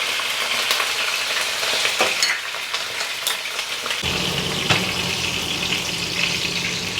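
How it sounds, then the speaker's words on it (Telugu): Cumin, curry leaves, urad dal, garlic and green chillies fry in hot oil for a white brinjal dish, giving a close, steady sizzle with crackles and pops, louder after a fresh addition partway through. "జీలకర్ర కరివేపాకు ఇది వేగుతూ ఉంటాయి ఈలోపు ఈ పచ్చిమిర్చి కూడా వేసేసుకోండి వేగుతూ ఉంటాయి"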